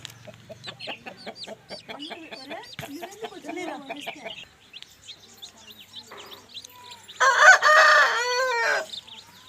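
A Sethuva fighting rooster weighing 3.5 to 4 kg clucks and calls in short, fluttering bursts, then lets out one loud, close crow near the end.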